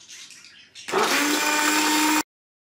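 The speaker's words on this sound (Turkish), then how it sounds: "Hamurumuzu robottan geçirdik." A food processor blending semolina dessert batter starts up after a brief quieter whir, then runs in a loud steady high-pitched whirring drone for over a second before cutting off abruptly.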